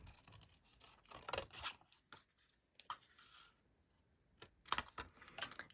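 Scissors cut out a paper card for a craft project, giving soft, close snips and paper rustles in irregular bursts with quiet gaps between.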